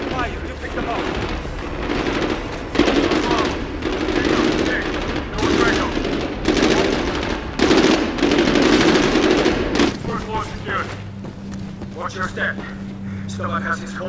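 Sustained automatic gunfire and explosions in the military shooter Medal of Honor Warfighter, loud and dense bursts rattling almost continuously, with voices shouting through the battle before it drops to a low rumble near the end.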